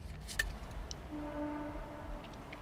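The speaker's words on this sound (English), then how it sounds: "That's just a train" A faint, distant train horn sounds a steady tone for under a second, rising out of a soft outdoor background with low rumble.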